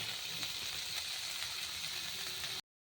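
Pre-fried potatoes sautéing in spice masala in a pan, a steady close sizzle with light crackle that holds evenly until it cuts off abruptly.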